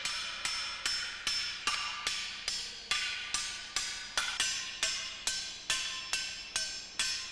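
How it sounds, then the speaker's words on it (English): A hand hammer strikes aluminum sheet 2.5 to 6 millimeters thick, shaping the nose of a bullet train. The sharp, ringing metallic blows fall in an even rhythm, about seventeen of them, close and clear with no voices. "the difference in sounds and vibrations that his arms feel when he hammers the metal"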